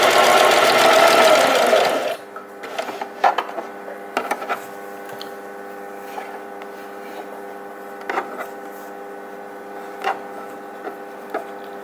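A sewing machine stitches a double-folded T-shirt hem, running in a steady, loud whir for about two seconds, then stopping and leaving faint clicks and handling noises over a low hum.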